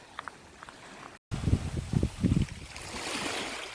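Waves break and wash against large rocks along the coast at Cavtat, Croatia, with irregular rushing surges and low thumps close by, followed by a broad, hissing wash of water.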